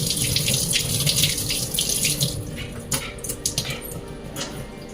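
Paneer rinsed under a running kitchen tap, with a steady close gush of water into the sink for a couple of seconds, then a tap sputtering and splashing intermittently as the flow is interrupted.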